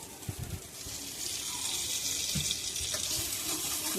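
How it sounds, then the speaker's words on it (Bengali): Water is poured into a spice mixture in a cooking pan for a vegetarian aloo paneer biryani. It makes a steady, close gushing hiss that swells after the first second and runs on. "মশলাটা পড়ে যাচ্ছে বলে জল দিয়ে দিলাম"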